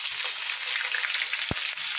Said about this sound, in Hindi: तो चलिए अब हम प्याज को फ्राई कर लेते हैं।